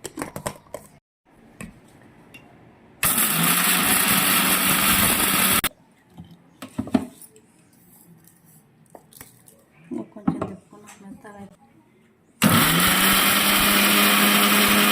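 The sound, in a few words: mixer grinder grinding chutney ingredients smooth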